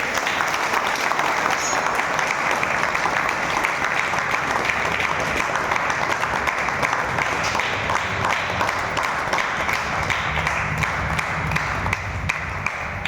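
Sustained audience applause at a tribute ceremony in a Shiva temple, a dense steady wash of many hands clapping throughout, loud and even, with no voices standing out.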